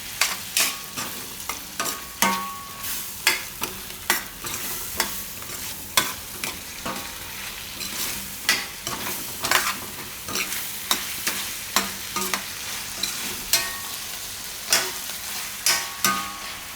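Carrot and tomato shaak with cream mixed in, stirred in a pan with a spoon that knocks and scrapes in a steady repeating rhythm over a soft sizzle, close and clear, with no talking.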